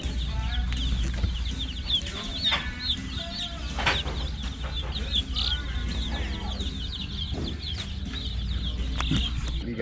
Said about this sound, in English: They got all kinds of chickens, hens, roosters, all babies.